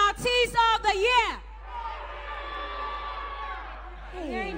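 A crowd at an awards show shouts out the names of music artistes, a loud burst of overlapping yells over about a second, then a sustained, fainter roar of many voices with a presenter's voice rising again at the end.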